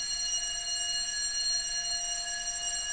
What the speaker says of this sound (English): That's a real fire alarm.